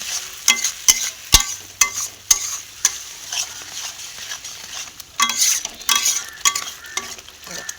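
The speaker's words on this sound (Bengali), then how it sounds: "এক চামচ হলুদ গুঁড়ো, এটা মিক্স করে নিলাম ভালো করে।" A spoon stirs turmeric powder into spices frying in a pan, giving repeated scraping strokes over a steady close sizzle, with no voices.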